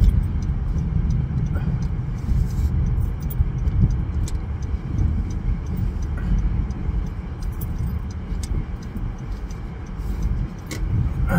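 A car drives on an icy road in freezing rain, its low, laboured engine rumble steady throughout, with scattered ticks and taps of ice and rain striking the body.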